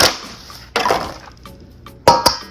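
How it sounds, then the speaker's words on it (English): An egg is cracked against a bowl and dropped in while preparing batter for crispy fried chicken thighs, with a sharp crack, a softer tap, then another crisp double knock, close and fairly loud. "Crack your egg in there."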